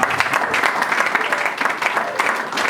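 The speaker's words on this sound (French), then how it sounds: "On acclame les rois de gloire." Church congregation applauding and cheering together in a worship service, a steady dense clapping that fills the room at close range, with voices mixed into the applause.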